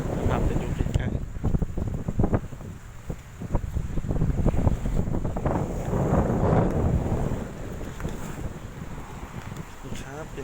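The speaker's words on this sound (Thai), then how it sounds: "โอ้ลมแรง" Strong gusting wind buffets the microphone at Laem Taen on Bang Saen beach in the evening, with rough sea and waves rushing beneath a loud, continuous, fluctuating roar.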